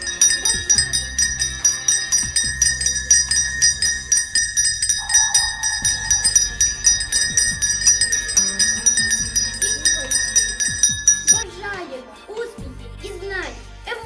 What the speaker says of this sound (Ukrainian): Перший дзвоник прозвучить і про початок нового навчального року усіх сповістить.